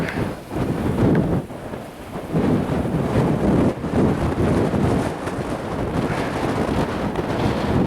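Strong Calima wind gusting steadily outdoors in Fuerteventura, blowing dust across open ground; a loud, continuous roar with rumbling buffeting on the microphone and no talking.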